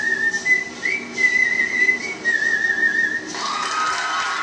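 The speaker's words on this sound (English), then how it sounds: "Witness the whistling contest." Clear human whistling of a wavering tune, with sliding notes that pause and resume, then a second whistler taking over at a different pitch.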